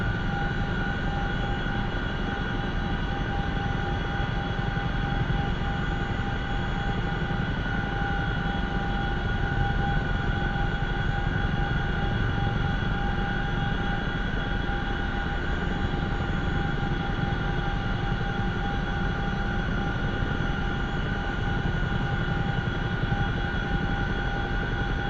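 CH-47F Chinook twin-rotor helicopter in a flight video game, a steady loud droning rotor and engine roar that holds constant throughout with no talk.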